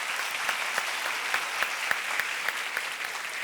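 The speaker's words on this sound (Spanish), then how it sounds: "Un aplauso, por favor, para ambos." Audience applause at a university conference session, steady dense clapping with scattered sharper individual claps standing out, sustained and fairly loud throughout with no talk.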